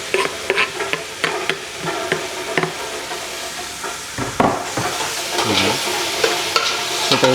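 Onions go into a pan of ampalaya frying with pork, with a steady sizzle and hiss under irregular stirring and scraping of a utensil, close up and fairly loud, with no voices.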